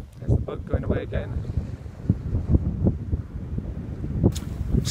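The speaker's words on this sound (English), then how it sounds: "There's the boat going away again." A tour boat pulls away from Loch Leven island in Scotland, its low engine rumble steady and fading under strong wind buffeting the microphone, with a brief voice near the start.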